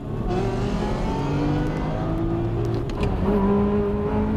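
Race cars, among them a Corvette and a Porsche, pulling away from a standing start, a loud steady roar of several engines with rising and shifting tones as they accelerate together, no voices.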